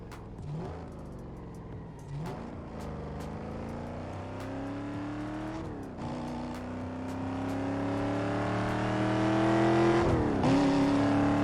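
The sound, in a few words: Mercedes-Benz E63 AMG 5.5-liter V8 engine revving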